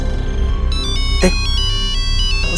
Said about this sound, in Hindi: उसी का फोन। उठा उठा।